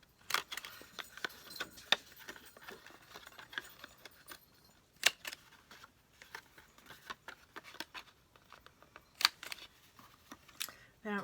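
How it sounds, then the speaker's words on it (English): A 1/4 inch corner rounder punch clipping the corners of paper for a Halloween craft, several sharp clicks and snips at irregular intervals, close and fairly quiet, with light rustling between them. "And I'm using my 1/4 inch corner rounder."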